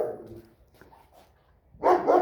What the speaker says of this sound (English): It's a German Shepherd.